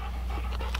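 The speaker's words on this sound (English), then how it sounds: "rescued dog from the shelter" An Australian Shepherd, a rescued shelter dog, pants quickly and softly in a short burst up close, with no talk.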